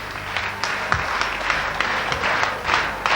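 An audience at a stage show in Gədəbəy, Azerbaijan applauds honoured artists being introduced: a dense, steady wash of many hands clapping at close range, with sharper individual claps standing out throughout.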